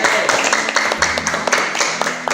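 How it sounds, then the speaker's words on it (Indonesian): Classmates in a school classroom give a short burst of applause for a student, a quick patter of scattered hand claps from a small group nearby lasting a couple of seconds. "tepuk tangan buat Ananda Naufal Arifati"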